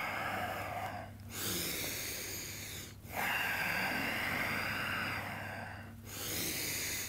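Heavy rhythmic breathing from someone holding a forearm plank during a jiu-jitsu cardio workout, long broadband breaths pausing briefly at regular intervals, close and fairly loud with no talking.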